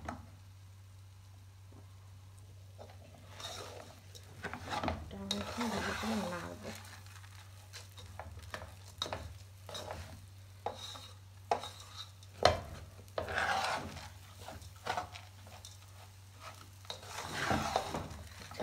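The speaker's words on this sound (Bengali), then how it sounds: "এখন এটা আমি নাড়ব ভালো করে একটু" Rice and spices are stirred in a pan over medium heat for sambar rice, giving repeated scraping and rustling strokes with soft sizzling beneath, while a voice talks over it.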